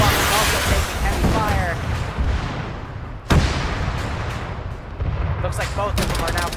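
Gunfire and exploding, burning mech vehicles in a chaotic Arma 3 PvP battle, with dense overlapping shots, sharp cracks and rumbling blasts continuing throughout under a talking voice.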